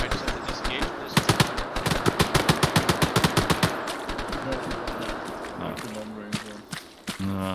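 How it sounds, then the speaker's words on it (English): Gunfire during a video game patrol: a rapid, steady machine-gun burst of loud, close shots, then scattered footsteps and movement with a few later pops and tonal beeps. "Oops, I'm taking fire again."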